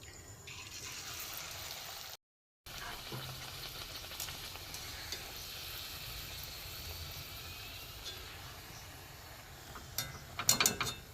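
Sweet mango luchi fry in hot oil with a soft, steady sizzle and a few light clinks of utensils near the end; quiet and close, with a short silent gap.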